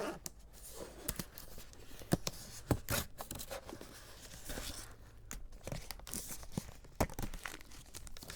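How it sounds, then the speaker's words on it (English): Taut plastic packaging being pulled open by hand, with sharp tearing rips and dense crinkling crackles in irregular bursts, close and fairly quiet. "Trying to open plastic like this that's under tension while also not doing that very often."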